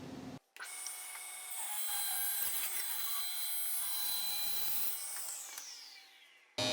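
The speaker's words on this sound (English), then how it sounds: "I'm going to run my mill-marked edge through the joiner one time to clean it up" A wooden board's mill-marked edge fed once through a jointer, a loud sustained high-pitched cutting whine that starts abruptly, holds for several seconds, then drops away as the motor winds down.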